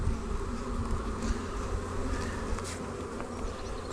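Honey bees buzz thickly around hives on a farm during swarm inspections, a dense, continuous drone close by with individual bees passing near.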